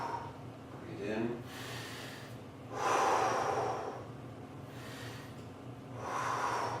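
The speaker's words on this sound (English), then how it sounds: "Breathe in." During a chest and shoulder exercise set, a person takes several deep, audible breaths in, slow airy swells that come close and breathy at irregular intervals over a faint background hum.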